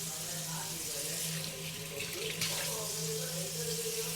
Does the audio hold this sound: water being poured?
yes